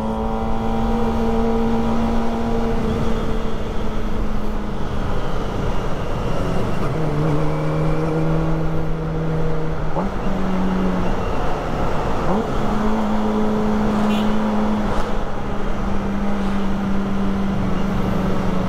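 Kawasaki ZX25R sport motorcycle engine, shifting gears with a quick shifter and blipping on downshifts, held close with a high-pitched wailing tone that rises and falls through several gear changes, loud and continuous with no talk.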